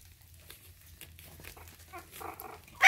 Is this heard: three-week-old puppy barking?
yes